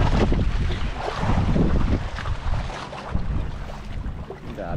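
A small wooden outrigger boat heads home across rough, choppy sea, with a steady broadband rush of wind buffeting the microphone and waves slapping and surging against the hull throughout.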